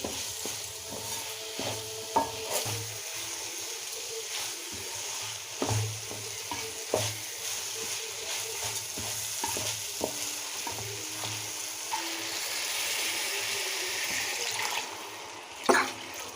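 Rice sizzles and fries in a pot for mutton kima biryani, with steady low frying noise and occasional scraping stirs and clinks throughout, fairly faint and without voices.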